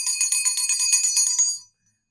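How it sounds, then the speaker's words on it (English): A small high-pitched bell rings rapidly and steadily, shimmering for about a second and a half before stopping abruptly into silence. "My mom's bell."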